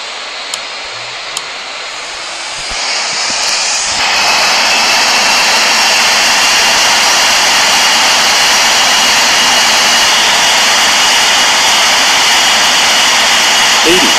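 Jet airliner engines in Real Flight Simulator spool up to a loud, steady roar during takeoff, a sustained whine over a broad rushing hiss that builds after a few seconds and holds to the end.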